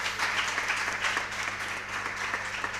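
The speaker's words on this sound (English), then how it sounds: "Shall we give him a round of applause?" Light, steady applause greets a junior high school quiz contestant being introduced, a soft wash of clapping over a low electrical hum.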